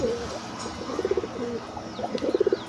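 Soft, repeated coos from a Chila pigeon in short rhythmic bursts, close by, with faint chirps and background hum.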